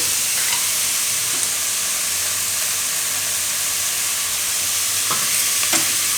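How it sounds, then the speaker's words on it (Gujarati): Chopped onion and capsicum fry in a pan over a low flame, giving a steady, even sizzle and hiss across the whole stretch, with a few faint scrapes of stirring. "ધીમો ગેસ રાખશું, એ વચ્ચે વચ્ચે હલાવતા રહે."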